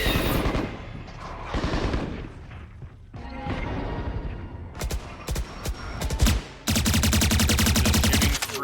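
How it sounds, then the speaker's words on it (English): Rapid automatic rifle bursts and single shots in a competitive VALORANT college esports match, loud and close, alternating with short pauses and ending in a sustained rattling volley. "Just shooting through Brian Nicholas's smoke."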